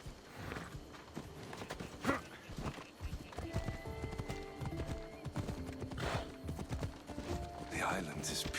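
Horse hooves clip-clop steadily during riding in Assassin's Creed Odyssey, with a horse neighing, game music and voices talking over the hoofbeats throughout.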